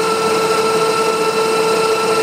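An involute gear cutter shaves a spline into 4140 steel with cutting fluid, a steady machine hum with a sustained tonal whine and no breaks.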